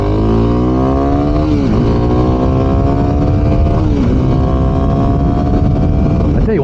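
A Kawasaki KLX 300 SM motorcycle accelerates hard through the gears, its loud, close engine rising in pitch, dropping briefly at each of two shifts, then climbing again.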